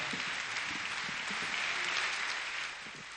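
A concert audience applauds after an accordion performance, a steady wash of many hands clapping at moderate volume that eases slightly toward the end.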